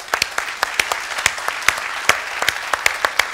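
An audience at a workplace safety conference in Besançon breaks into applause, a steady patter of many hands with a few louder individual claps standing out, continuing evenly throughout.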